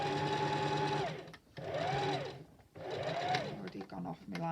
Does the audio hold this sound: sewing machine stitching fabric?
yes